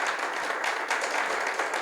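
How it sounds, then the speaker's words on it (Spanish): A church congregation breaks into applause for the Lord, a brief, even wash of many hands clapping across the room. "¿No le da un aplauso al Señor por esto?"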